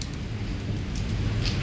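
Torrential rain pours down steadily in Islamabad, a dense, continuous wash of hiss and low rumble with no voices, close and even throughout.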